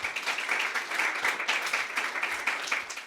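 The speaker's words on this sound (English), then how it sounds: "Everyone, please clap for Alessandra Lynch." An audience claps at a poetry reading, a lively continuous burst of many hands that stays fairly loud and even, then starts to thin near the end.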